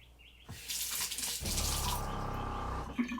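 Water rushes steadily through a fully open ball valve on a cargo trailer's water filter setup after a brief quiet start, a loud continuous hiss and gush heard close by.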